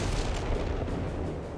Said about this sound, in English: It's interesting artillery. It's like it gets right above the ground and then explodes in a wide range.